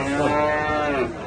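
A cow at a cattle market in Bangladesh's capital lets out a long, loud, low moo that holds steady and then trails off, with no talking.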